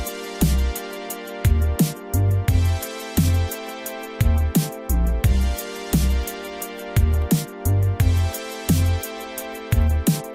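A fully mixed, unmastered electronic music track plays back in FL Studio, with a punchy, regular kick-and-bass pattern and steady percussion running under layered sustained tones. It is loud and continuous, with no talking.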